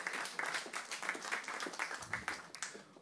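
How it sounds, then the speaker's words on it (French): A church congregation claps continuously for a few seconds, a steady patter of applause in a room. "Et on peut l'applaudir, c'était clair."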